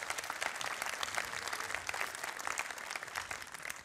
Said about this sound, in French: Philippe Laudet, qu'on applaudit.